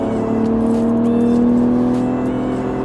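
A Porsche 911 GT3 engine drones steadily from inside the car while driving, a loud sustained tone with a slowly rising pitch and no talking.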